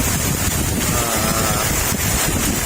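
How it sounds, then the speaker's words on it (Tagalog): Strong wind buffets the microphone out over a fishpond during rain, a loud, unbroken rushing roar with low rumbling gusts throughout. "ang lakas ng hangin dito at nasa gitna pa rin kami ng palaisdaan"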